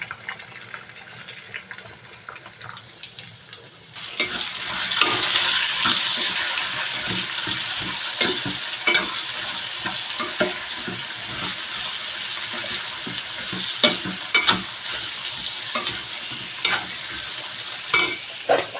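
Sliced onion rings sizzling in hot oil alongside baby potatoes, cloves, cinnamon and bay leaf, a quiet pan that jumps to a loud, steady frying hiss with scattered crackles and spatula scrapes.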